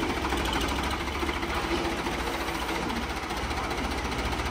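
A Ford 3620 tractor with power steering runs with a steady, buzzing mid-pitched engine drone, even and continuous at close range.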